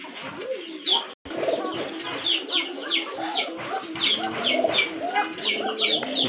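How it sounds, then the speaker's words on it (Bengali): A big-sized pair of colourful German Shield pigeons coo steadily at close range, their soft repeated calls layered with chirpy bird notes through the whole stretch after a brief dropout near the start. "কালারফুল জার্মান শিল কবুতর"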